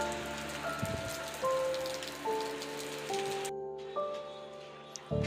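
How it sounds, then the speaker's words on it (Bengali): Sudden rain pattering steadily on surfaces at a railway platform, a dense continuous patter with faint tonal hums and distant sounds mixed in, no voices. "দাঁড়িয়ে থাকতে থাকতে হট করে বৃষ্টি।"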